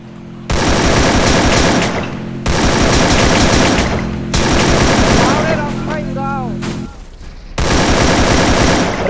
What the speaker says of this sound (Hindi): चलाओ गोली।